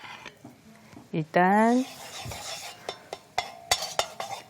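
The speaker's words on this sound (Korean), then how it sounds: "여기에다가 참기름으로 볶는구나" Food stir-fries in sesame oil in a pan for abalone garlic fried rice, with scattered clinks and scrapes of a utensil against the pan under a woman's speech.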